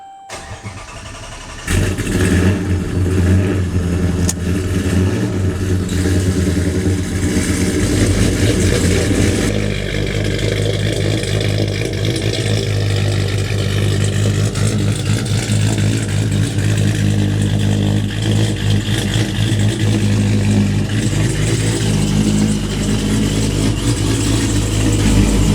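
A supercharged Mopar V8 cranks briefly, catches and roars to life, then holds a loud, lumpy, rumbling idle with occasional revs, heard up close with no talking.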